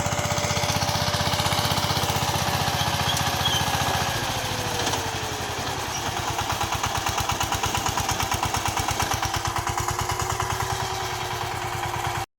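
A VST Shakti 130DI tractor engine chugs steadily while ploughing a field, with a loud, close, rapid diesel knock that shifts pitch slightly partway through and keeps running without speech.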